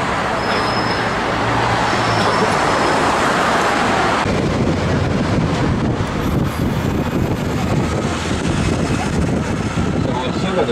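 Steady road traffic rolls past in London near the Tower, a loud continuous wash of engines and tyres with heavier vehicles passing, while a tour guide's voice speaks over the din.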